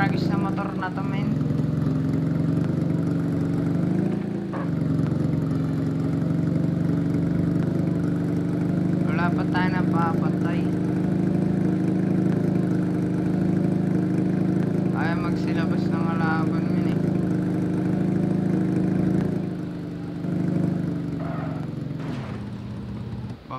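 Video game motorcycle engine idling with a steady low drone throughout, while someone talks over it at several points.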